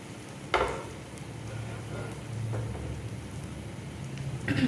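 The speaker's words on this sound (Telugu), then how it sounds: "వేయించుకున్న గుడ్లన్నీ వేసేసుకొని బాగా రోస్ట్ చేసుకోవాలి" Eggs roasting in chili powder in a pan over a low flame give a soft, steady sizzle, with a few faint clinks of a spoon against the pan.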